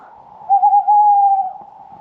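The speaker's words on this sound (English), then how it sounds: "Can you hear the owl?" An owl hooting outdoors at an off-grid site, one sustained, steady hoot lasting about a second that rises clearly above a faint background hum, with no talk.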